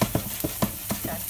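Onion fries in a pan with a soft, steady sizzle, broken by faint scraping or stirring taps at a quick irregular rhythm, close and quiet.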